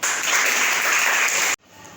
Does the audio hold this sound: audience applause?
yes